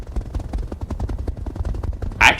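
Mech weapons firing in the BattleTech RogueTech game: a long, steady stream of rapid, evenly spaced pops like a fast autocannon, close and moderately loud, with a brighter burst at the end.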